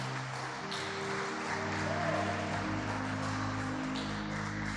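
Church congregation applauding the Lord during a sermon, a steady wash of clapping across the whole stretch, with organ or keyboard tones sustained underneath.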